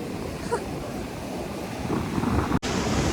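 Rough, angry sea surf breaking on a beach, a steady loud wash of broken water with wind buffeting the microphone and a brief dropout near the end.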